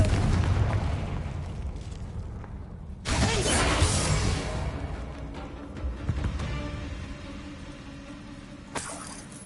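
A Confringo blasting spell from Hogwarts Legacy detonates with a loud burst and shattering crash, followed by rumbling debris, then a second sharper blast near the end.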